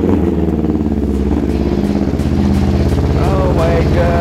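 A Yamaha R25 motorcycle engine with an unstable throttle runs loud and close, its revs wavering up and down unevenly with clattering mechanical noise and voices talking over it.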